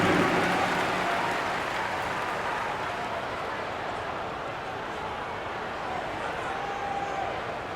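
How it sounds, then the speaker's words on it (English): Arena crowd applause in an NBA 2K24 basketball game for the Clippers Spirit Dance Team, a dense, steady wash of cheering and clapping that fades slightly midway and lingers at an even level. "Give a big round of applause for your Clippers Spirit Dance Team."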